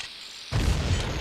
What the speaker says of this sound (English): This explosion here can be a little tricky.